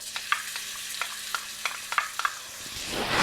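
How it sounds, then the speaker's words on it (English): Garlic sizzles in hot oil in a wok, with a steady frying hiss broken by sharp clicks and scrapes from a stirring utensil; no one speaks. "we're just going to saute these in the bottom of our wok here"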